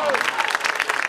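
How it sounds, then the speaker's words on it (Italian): Audience applause for Fiona Maria at a festival event in Lamezia, Italy: brief, moderately loud clapping with individual claps audible and a voice briefly over the start. "Facciamo un applauso a Fiona Maria."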